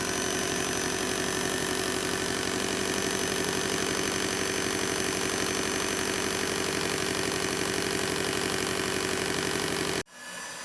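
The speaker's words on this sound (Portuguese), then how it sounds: "Continue adicionando a nossa mistura, o óleo lentamente, sob forte agitação da nossa batedeira." An electric mixer beats oil into mayonnaise, a loud, steady mechanical whir that runs continuously for about ten seconds before cutting off abruptly and spinning down.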